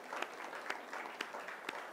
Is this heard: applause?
yes